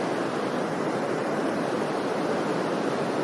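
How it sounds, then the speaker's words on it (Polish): Steady wind rushing across the Marienbrücke bridge near Neuschwanstein Castle at sunrise, a dense, unbroken broadband roar holding at an even level throughout with no voices. "Na moście Marienbrücke wiatr hula."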